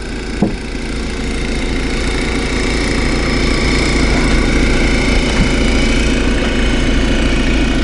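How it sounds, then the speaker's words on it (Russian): A four-stroke engine on a hybrid vehicle carrying building materials along a rough forest road runs steadily at close range, a loud, continuous, vibrating mid-pitched drone with a few faint knocks and no talk. "Четырехтактный двигатель."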